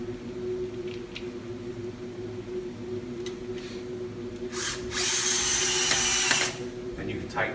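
A power tool tightens bolts on an auto drain bracket in a quiet workshop, giving one loud burst of whirring near the end after faint handling noises.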